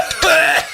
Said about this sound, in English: coughing up the marijuana he just smoked